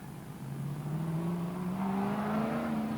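A race car at Archerfield Speedway during an AMCA Nationals A-Main feature race, its engine droning steadily with a rising whine that climbs in pitch, loud and continuous with no talk.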